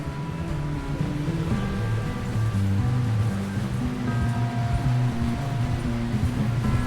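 Horses wading and splashing through water in Red Dead Redemption 2, a steady rushing wash of water churning continuously with a low musical score underneath, no voices.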